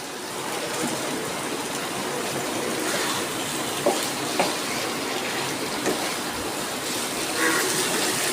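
Water is poured into a pan of potatoes cooking with turmeric spice paste for a fish curry, a steady rushing splash that runs without a break, with a few faint clinks.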